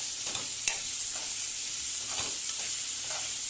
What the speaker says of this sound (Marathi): आता त्याला आपण चांगलं परतून घेऊया मऊ होईपर्यंत